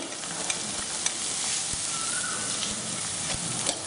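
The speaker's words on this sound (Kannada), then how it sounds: "ಈ ಈರುಳ್ಳಿ ಸ್ವಲ್ಪ ಕಲರು ಬದಲಾಗೋವರೆಗೆ, ಅಂದರೆ ಸ್ವಲ್ಪ ಹೊಂಬಣ್ಣ ಬರೋವರೆಗೆ ಹುರಿಯಿರಿ" Onions frying in oil in a pan with garlic and ginger, a constant close sizzling hiss with a few light stirring taps.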